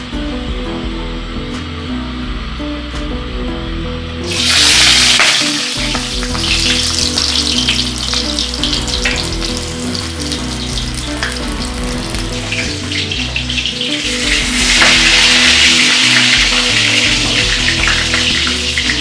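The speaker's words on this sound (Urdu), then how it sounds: "سارے پالک کے پتوں کو پکوڑوں میں ڈال کر ہم اسی طرح" Spinach leaf pakoras frying in hot oil for iftar, giving a loud, continuous sizzle that swells sharply when more batter goes in and surges again later, close and steady with no talking.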